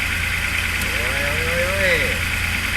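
A Nissan HA30 Gloria, an old Japanese car revived from long garage storage, with its engine running loud and steady and a rough mechanical drone, while a person speaks over it.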